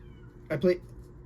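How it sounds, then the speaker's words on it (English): A cat meows twice in quick succession, fairly close and clear, over a low background hum. "There's a cat."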